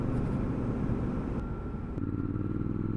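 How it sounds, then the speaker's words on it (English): Triumph Scrambler 1200XE parallel-twin engine on the move, a steady low rumbling drone that dips briefly midway and then resumes, with wind noise over it and no talking. "Really talky engine though,"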